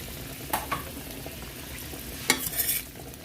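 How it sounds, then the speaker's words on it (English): Mushrooms being cooked in oil in a pan give off a quiet, low sizzle, with a couple of soft clatters early and a brief burst of louder frying and stirring near the end. "I'm gonna go ahead and throw these mushrooms in there."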